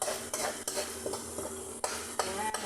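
A utensil stirs rice with chicken and vegetables in a pan, with sharp scraping strokes repeating every half second or so over a faint sizzle, close and alone.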